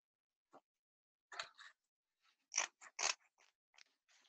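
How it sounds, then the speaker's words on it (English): Scissors cut a square out of copper mesh, a series of close, quiet snips and crisp metallic clicks spaced irregularly, some in quick pairs, with silence between them. "I'm gonna open my copper mesh and I'm gonna cut out a square"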